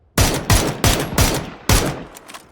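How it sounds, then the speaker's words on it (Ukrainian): Dragunov sniper rifle firing in the video game PUBG: five loud, sharp shots, roughly evenly spaced about half a second apart, each with a short ringing tail. "Це це що з драгуном стріляв."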